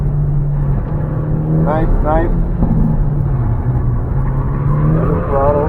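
Hyundai Elantra N engine pulling hard through an autocross run, a loud close-miked in-car drone that rises and falls with gear changes and throttle lifts, with a driving coach talking over it.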